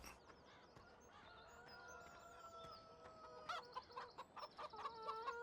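Farm chickens in Farming Simulator 17 cluck and chatter in a quiet, busy flock, with a rooster-like crow and rising squawks growing louder toward the end.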